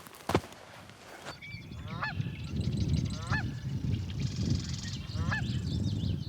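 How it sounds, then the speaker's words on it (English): Several geese honk in short repeated bursts over a steady low rumble of wind or distant water in quiet Oregon wilderness, the calls rising and falling at moderate distance. "the birds like I'd never heard before. And I think we're starting to hear them picking up again"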